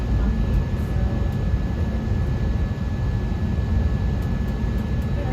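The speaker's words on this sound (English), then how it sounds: "Now on our taxi out to the runway, I do believe we hit every pothole on the tarmac." Spirit Airlines airliner taxiing out toward the runway, a steady loud cabin rumble with broadband engine and road noise, continuous and even throughout with a few faint high clicks.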